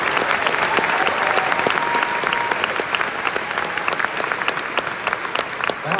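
A theatre audience at the Eastman Theatre in Rochester, NY claps loud and sustained, a thick wash of many hands that holds steady throughout with a little crowd murmur.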